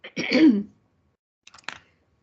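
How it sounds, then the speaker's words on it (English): A person clears their throat once, close and fairly loud. A couple of faint, short rasping follow-ups come after a pause. "I'm like having to clear my throat"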